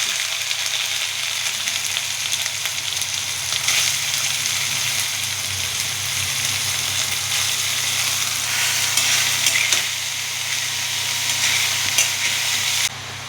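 Chopped banana stem (thor) hitting hot oil over a tempering of spices for a Bengali prawn dish, giving a loud, continuous crackling sizzle close by that holds steady without any talking.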